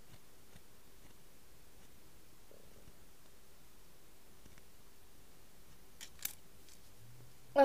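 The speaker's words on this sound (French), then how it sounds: "Je vais découper un petit peu." A few faint, close snips of scissors cutting fabric for a miniature doll's dress, isolated against a very quiet background with a sharper cut near the end.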